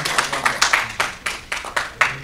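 An audience at the close of an ESG forum session claps, a short, loose burst of applause with individual claps clearly audible, fairly near, and no talk over it.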